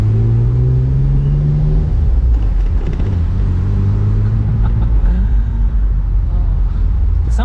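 A BMW M3 E46 Convertible's engine rumbling steadily from inside the cabin as manual gears are changed, with the pitch rising and then dropping between shifts under a constant road drone, while someone talks over it.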